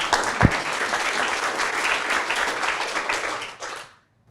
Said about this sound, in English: So, round of applause for Cass.